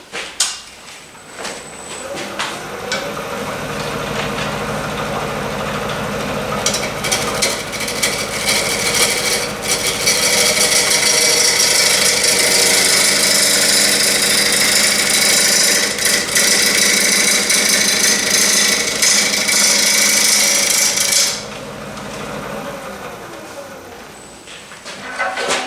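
A wood lathe turning a natural edge bowl from a tree limb, a steady loud whirring and scraping of the tool cutting the spinning wood that runs for over twenty seconds before easing off near the end.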